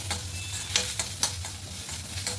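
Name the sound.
coriander leaves and grated coconut frying in a pan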